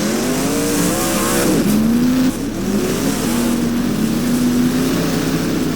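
Dirt modified race cars run at Blackrock Speedway in the rFactor video game, their engines droning loud and steady with rising and falling pitch as they rev and pass, with no talk audible.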